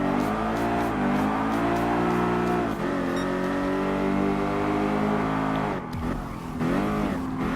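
A Porsche race car engine in Gran Turismo Sport revs hard and steadily under sustained throttle, its pitch climbing and dropping through gear changes and easing off briefly near the end before pulling again.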